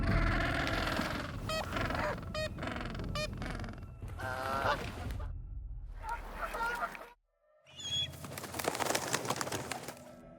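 Dense honking and squawking calls of an Adelie penguin breeding colony on a frozen rocky Antarctic shore, many birds calling at once, loud and continuous with a brief pause near the end.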